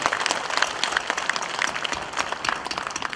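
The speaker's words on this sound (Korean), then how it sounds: "예, 박수 부탁드립니다." Audience applause fills a community meeting hall in Korea, a dense, steady wash of many hands clapping at moderate loudness for about three seconds, with no speech over it.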